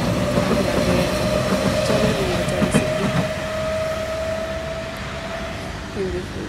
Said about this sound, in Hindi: आई गई ट्रेन का नाम लिया ट्रेन का।